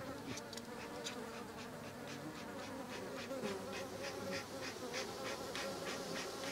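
Honey bees in Provence buzz continuously in a dense, steady drone, with many insects humming together and individual bees passing close by against a constant background hum.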